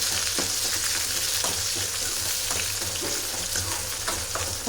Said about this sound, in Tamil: தக்காளி போட்டு தக்காளி வந்து நல்லா வணங்கட்டும்.